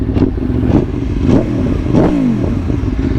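A motorcycle engine revs loud and close in a few rising-and-falling bursts over a steady rumbling idle, with a faint service-light situation noted on the newly bought bike.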